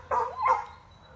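A dog gives two short barks close by, one right after the other, with no one talking.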